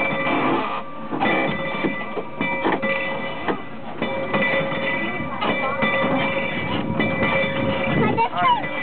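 A train rolls along the rails during a Christmas Celebration ride in Florida, a steady rumbling clatter with rhythmic wheel clicks and squeal-like tones, loud and continuous, with people talking over it.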